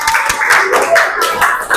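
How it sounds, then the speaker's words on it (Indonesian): Brief burst of clapping from a group audience for a student team at a school performance assessment, a few distinct claps, close and fairly loud. "Silakan beri tepuk tangan untuk kelompok Duratul"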